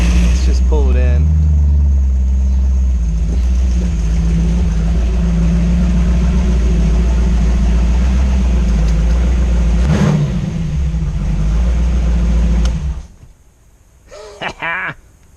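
Sunbeam Tiger with a swapped-in 289 engine pulls in and settles to idle, a loud, close, deep rumble with a brief rev at the start that runs steadily before the engine cuts off near the end.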